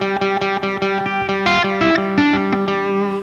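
Electric guitar plays blues licks with double stops and pedal tones through a distorted effects tone, ringing paired notes over a repeated low drone in a quick, rhythmic phrase with no voices.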